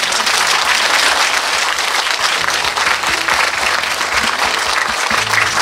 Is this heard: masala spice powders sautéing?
no